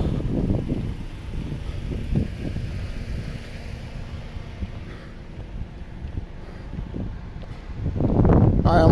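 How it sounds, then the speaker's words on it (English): Wind gusts buffet the microphone outdoors beside a road, rumbling in uneven low bursts that swell loudest near the end, with a person speaking intermittently underneath. "It's a little windy out here, sorry."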